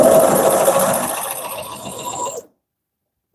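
A Consew CP206RL portable walking foot sewing machine stitches in a steady mechanical whir, loud and close, running alone for about two and a half seconds before stopping abruptly into silence.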